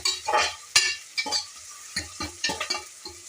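Onions frying in a pan, turning brown: sizzling under repeated scraping stirs at an irregular rhythm, each stroke a short, close-up scrape.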